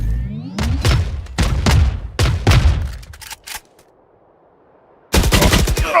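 A missile barrage in the shooter game Valorant sets off a rapid series of loud, close explosive bursts, then a short quiet lull before another dense volley hits.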